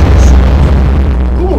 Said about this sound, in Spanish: ¿Cómo que una explosión?